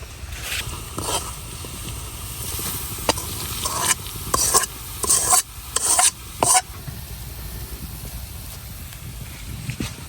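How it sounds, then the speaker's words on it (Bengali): Garlic and onion fry in oil for the tempering of a winter mixed-vegetable khichuri, giving a steady close sizzle under repeated spoon stirs and scrapes, with sharper clattering strokes bunched toward the end. "রসুন পেঁয়াজ গুলা লাল লাল করে বাজিয়ে নিছি তো বাগার রেডি"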